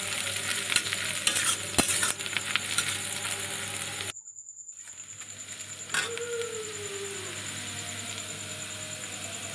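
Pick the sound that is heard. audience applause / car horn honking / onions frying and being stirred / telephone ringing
onions frying and being stirred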